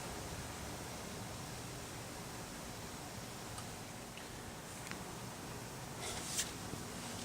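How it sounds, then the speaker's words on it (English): Homemade wine being siphoned into a bottle, heard as a steady soft hiss of flowing liquid with a few faint clicks and ticks near the end. "They don't make siphoning wine any easier than this."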